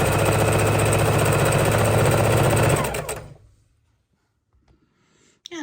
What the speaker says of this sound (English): Lock our stitch and continue sewing.